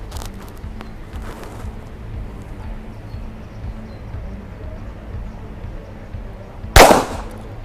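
A single shot from a Colt Woodsman pistol held in two hands, one sharp crack near the end after a stretch of quiet outdoor range ambience, with brief talking before it.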